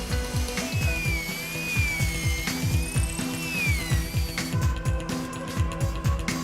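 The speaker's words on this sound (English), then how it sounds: "A CNC machine drills screw holes into the boards." A CNC machine drills screw holes into recycled plastic lumber boards for a bench, giving a steady, rapid ratcheting mechanical rhythm with a whining tonal layer above, loud and continuous throughout.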